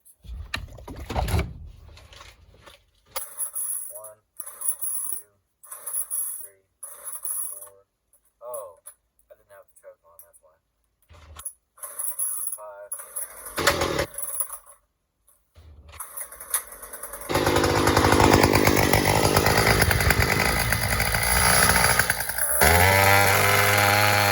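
A spare gas string trimmer is pull-started with several sharp cord yanks and sputters between short bits of talk, then catches and runs with a loud steady two-stroke buzz before revving down.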